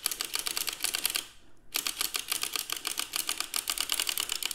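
A circular sock knitting machine is cranked round while casting on, producing a rapid, even run of mechanical clicks and ticks close by, with a brief pause before the clicking resumes.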